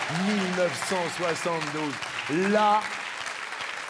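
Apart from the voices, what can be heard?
audience applause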